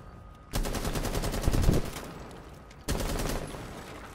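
Automatic weapon fire in Rainbow Six Siege, a long rapid burst of close, loud shots, a brief pause, then a second sustained burst starting near the end, with no talking over it.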